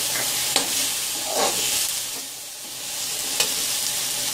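Cashews and tomatoes frying in a pan for shahi paneer, a steady sizzle with soft stirring scrapes and a couple of sharp clicks of the spoon against the pan, no voices.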